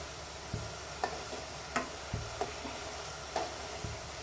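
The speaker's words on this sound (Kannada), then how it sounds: "ಸ್ವಲ್ಪ ಕೈ ಆಡಿಸ್ತೀನಿ, ಒಂದು ಸ್ಪೂನ್ ತೊಗೊಂಡು" A spoon stirs a pot of homemade ghee, giving about seven distinct clinks and taps at irregular intervals over a soft background hiss, close by and without speech.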